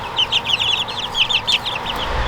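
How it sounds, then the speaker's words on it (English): Three-week-old Easter Egger and Silver Laced Wyandotte chicks in a large brooder give a busy stream of soft cheeps and clucks over steady background hum, fairly close, with no talk. "And then we have some new baby chickens, and they're in here. They're in the big brooder."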